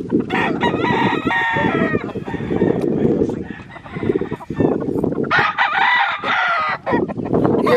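A fighting rooster crows loudly and close by, with repeated cock-a-doodle-doo calls and clucking from other fowl in a busy farmyard.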